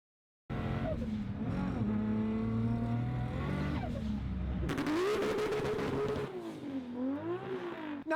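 A car with a six-cylinder engine pulls away and accelerates hard, its engine note rising through several gears with loud revving, a burst of rough tire noise midway, then continued strong throttle.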